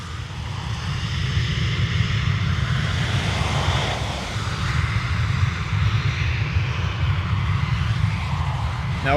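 A Ryanair airliner's engines roar at Dublin Airport, a loud, steady broadband rumble and whine holding for the whole stretch with wind buffeting the microphone.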